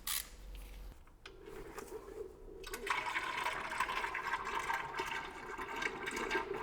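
Engine oil pours from the drain plug of a Mercedes GLC, a soft steady liquid trickle and splash into a pan that grows after a few quiet seconds, faint and close.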